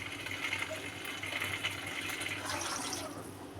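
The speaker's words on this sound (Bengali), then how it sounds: "এখন আমি এই মুহূর্তে পানি দিয়ে দিব।" Water pouring into a pan of braised green bananas (kancha kola), a continuous close gushing splash that stays even across the moment with no voices over it.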